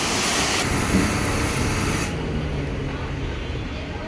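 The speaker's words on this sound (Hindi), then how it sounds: "सो स्प्रे करने के बाद सोप का अब पानी मारा जा रहा है" Steady high-pressure water spray hisses loudly and continuously, briefly louder at first, then settling into a constant rushing wash.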